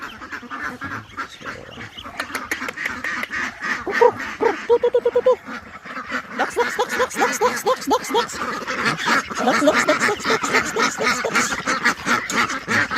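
Free-range ducks quack loudly and continuously, a dense, overlapping flock chorus of nasal calls that runs throughout, with no talking.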